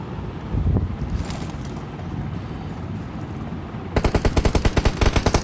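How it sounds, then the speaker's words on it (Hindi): Rapid bursts of PUBG gunfire during a tournament match crack out over a rumbling background, ending in a fast, evenly spaced volley of loud shots. "जानबूझकर उनके ऊपर गोली चलाई है इसने"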